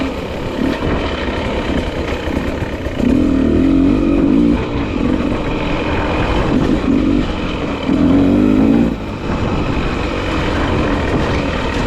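Beta 300RR two-stroke dirt bike being ridden, its engine droning loud and close with repeated rising revs and throttle surges over continuous wind rush.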